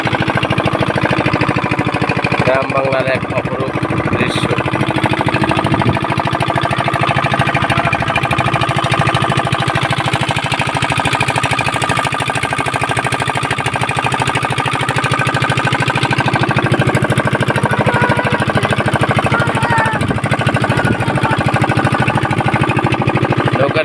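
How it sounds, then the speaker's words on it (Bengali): Motorized trawler boat engine carrying friends through Baniachong village in Habiganj, a loud, continuous chugging drone that holds steady throughout, with someone talking briefly over it. "পাওয়ারে ট্রলার দিয়ে ঘুরতেছি আমরা বন্ধুরা"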